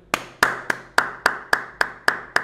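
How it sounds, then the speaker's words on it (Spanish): Hands clap in a steady run of about nine sharp, evenly spaced claps, close and alone with no talk, applauding Luis Díaz after Colombia's 2–1 win over Brazil in a 2023 South American World Cup qualifier. "La verdad, Lucho Díaz, no tengo nada más que aplausos para darte."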